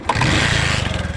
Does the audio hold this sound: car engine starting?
yes